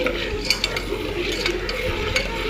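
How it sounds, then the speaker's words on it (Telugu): Popcorn kernels being stirred in a pan over a low flame, a spoon scraping and clinking against the metal while the first few kernels give faint, scattered cracks over a soft sizzle. "కొన్ని ఇంకా స్టార్ట్ అయినాయి పేలడం"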